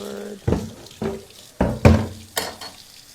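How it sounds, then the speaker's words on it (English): A cutting board is washed under a running kitchen tap, with bursts of splashing water and knocks against the sink in short separate pulses, close and fairly loud. "Wash my board."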